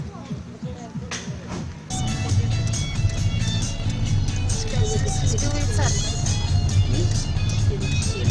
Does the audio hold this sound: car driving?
yes